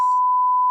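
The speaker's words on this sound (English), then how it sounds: "Yeah, no need for beeping." Censor beep: a single loud, pure steady tone held for under a second, starting and stopping abruptly with nothing else around it.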